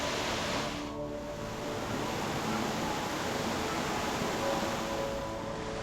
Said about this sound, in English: these falls are absolutely pumping